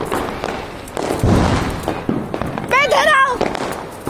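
Sky shot fireworks going off outdoors during Diwali celebrations: a couple of thumping bursts and crackles, fairly loud, with a whistling streak, mixed under excited voices calling out nearby.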